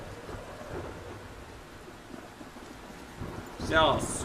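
Stormy weather in the game Life is Strange: steady rain hiss runs throughout, with a louder rumble building near the end, heard alone without talk.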